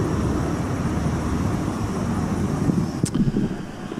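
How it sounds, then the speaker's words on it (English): A police helicopter passes overhead at a street protest, a steady broad rumbling drone mixed with wind buffeting on the microphone, and a brief sharp click near the end. "The helicopter is clearly government, police"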